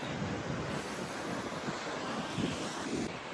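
Strong wind gusting across a microphone at the shore at Leo Carrillo State Park, with the wash of surf blended into a constant roaring hiss.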